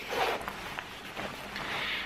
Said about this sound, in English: So let me zip it.